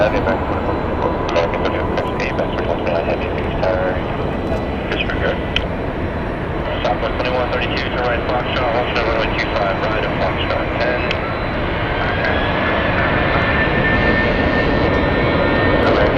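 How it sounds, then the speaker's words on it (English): A 39-year-old Boeing 767-200 jet at Phoenix Sky Harbor Airport gives off a steady, loud engine roar throughout, with someone talking over it. "that's a Boeing 767-200"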